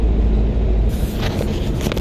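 An old Ford F-100 pickup engine bogging under throttle, a heavy low rumble that stays steady and close with no voices.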